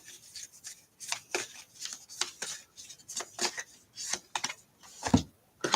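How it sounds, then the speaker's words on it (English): A tarot card deck being shuffled by hand, with a quick string of soft, crisp riffles and slaps at close range, fairly quiet and steady throughout. "I was shuffling this deck."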